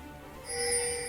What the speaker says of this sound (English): The most petty thing you can do is spam pings in game.